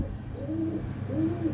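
Pigeons cooing in two soft, rolling phrases, fairly close, over a low steady background hum with no talking.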